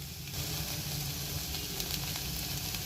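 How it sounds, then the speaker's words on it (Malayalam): Mushrooms sizzle steadily as they sauté in coconut oil in a pan over a low flame, producing a soft, even frying hiss with faint stirring clicks and no talking. "ഇത് നന്നായിട്ട് വഴറ്റുകയാണ് വേണ്ടത്."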